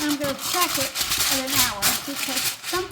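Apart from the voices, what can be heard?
None of the usual background noises is heard.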